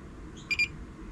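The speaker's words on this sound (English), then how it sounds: "And we got the confirmation beep." A short double beep from a JK inverter battery management system, sounding as confirmation at the end of a forced firmware update: two quick, clear electronic tones close by over a quiet background hum.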